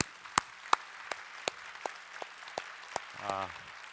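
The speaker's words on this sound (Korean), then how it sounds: "우리 하나님께 감사와 영광의 박수 올려드리겠습니다" A congregation at a New Year's Eve church service claps together in a slow, even beat of crisp, separate claps, and a voice comes in just before the end.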